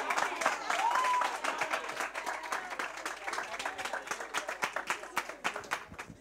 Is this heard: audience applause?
yes